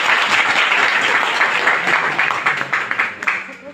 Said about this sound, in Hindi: एक बार ताली अपने लिए बजाइए सब।